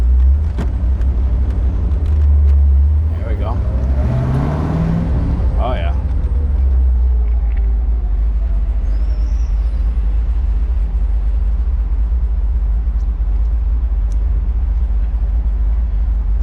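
A 1970s Plymouth Hemi Cuda with a 426 Hemi engine drives off with a deep, loud rumbling engine that swells as it accelerates, then settles into a steady drone, with people briefly talking over it.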